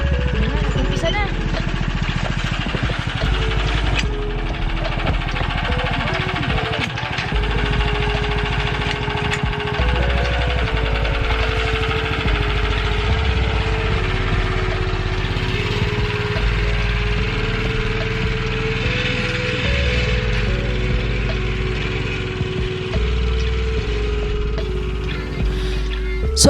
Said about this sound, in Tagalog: Ito yung makinang ginagamit nila sa pag-harvest ng mga patatas.